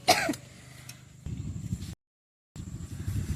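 A single throat clearing near the start, then low background rumble with a brief silent gap.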